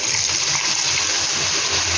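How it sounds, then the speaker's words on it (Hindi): Water poured into a pan of cooking masala for chhole, a steady, loud rushing gush that runs unbroken for the whole moment with no talking. "पानी ऐड करेंगे"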